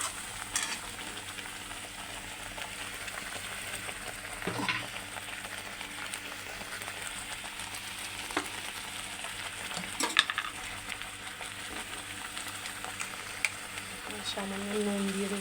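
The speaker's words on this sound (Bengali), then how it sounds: "এবার ক্রমাগত নাড়তে থাকবো। চিনিটা গলতে থাকবো।" Sugar melting in a pan while being stirred continuously, a steady sizzle and fry with scraping clicks and knocks from the stirring utensil throughout.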